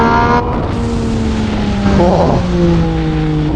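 A 2020 MV Agusta Brutale 800RC motorcycle engine screams close and loud during a hard pull, with its pitch holding high, dipping slightly between gear changes, then climbing again. A brief exclamation is heard over it.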